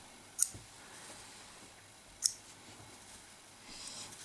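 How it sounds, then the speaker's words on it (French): Scissors snip through crochet yarn threads twice, two short sharp clicks a couple of seconds apart, quiet and close with no talking. "Allez, on coupe les fils."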